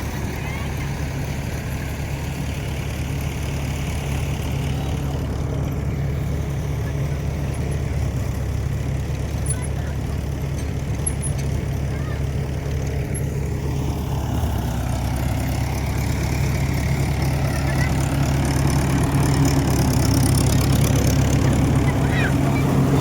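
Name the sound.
tractor engine running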